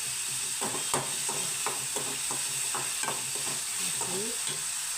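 Dry curry leaves going into a hot frying pan: a continuous close crackling sizzle with repeated stirring scrapes and light clatter of the spoon against the pan.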